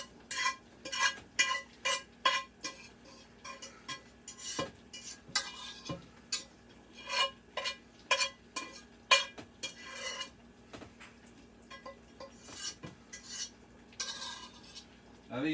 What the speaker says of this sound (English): Try and get all of them out of the pan.